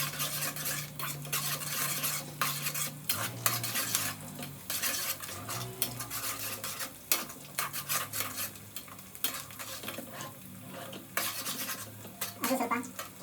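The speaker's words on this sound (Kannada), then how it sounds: "ಹಸಿಮೆಣಸಿನಕಾಯಿ ಹಾಕಿ ರಪ ರಪ ಅಂತ ಮತ್ತೆ ಮಿಕ್ಸ್ ಮಾಡಿ" Spoon stirring green chillies and mustard seeds in a hot pan for tomato gojju, with steady scraping and clinking against the pan over a constant sizzle, close and busy throughout, no talking.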